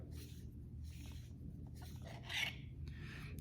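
A lightsaber battery cap is unscrewed by hand, giving a few quiet, short scraping rasps of threads turning, separated by brief pauses.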